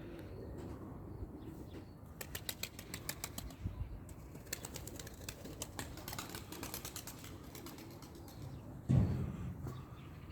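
A blue female mirror-tail tumbler pigeon flapping its wings in flight as it tumbles, heard as a rapid, soft fluttering patter outdoors, fairly faint, with a brief louder flurry near the end.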